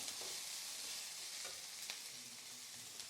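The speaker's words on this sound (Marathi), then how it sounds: "कांदा पण आहे ना एकदम मस्त असा लालसर भाजून घ्यायचा आहे" Onion roasts in a pan for an onion-garlic masala, giving a soft, steady sizzle with a few light scrapes of stirring, close and quiet, and no voices.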